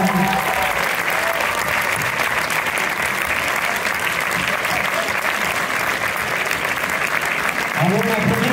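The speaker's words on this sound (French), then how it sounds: "si vous voulez les applaudir." Cinema audience at UGC Bercy applauding the film's producers, dense sustained clapping throughout with voices faintly audible beneath.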